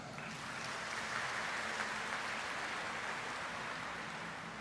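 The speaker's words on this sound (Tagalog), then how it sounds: "Sino sa inyo ang ayaw magkasakit? Pumalakpak ng malakas." A church congregation clapping loudly, a dense, even wash of many hands that holds steady for several seconds with no talk over it.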